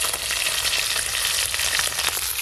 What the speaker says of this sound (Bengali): এদিকে দেখতে দেখতে আমার সব মাছও ভাজা হয়ে গেল